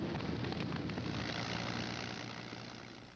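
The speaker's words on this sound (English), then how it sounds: "Spitfires and Hurricanes rise like hornets to meet the invaders." WWII Spitfire and Hurricane fighter planes fly overhead, their propeller engines making a steady, broad droning roar that is fairly quiet and slowly fades toward the end, with no voices.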